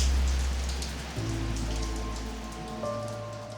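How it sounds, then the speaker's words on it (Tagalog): Heavy rain pours down steadily like a storm, a dense near hiss of drops hitting surfaces that slowly fades a little, with no talking. "pero ang lakas ng ulan. Bagyo na yata yan eh."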